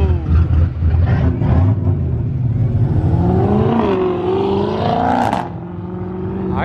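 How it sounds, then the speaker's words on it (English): A Ford GT500 sports car leaving a car meet pulls away with a loud, steady engine roar, close by, that rises in pitch as it accelerates and revs. Traffic noise sits underneath and no one speaks. "And in here we have a sneaky GT500. Listen to that."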